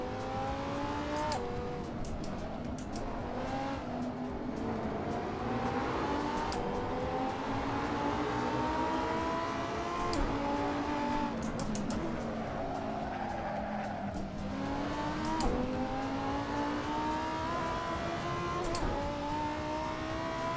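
Race car engine in a racing video game, a steady loud whine with rising and falling gear pitch, bursts of tire skidding and squeal throughout, without talk.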